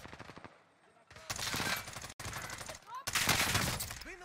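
Gunfire in the Warzone video game, loud rapid automatic bursts in two main volleys with gaps between, close and harsh, mixed with in-game voice callouts.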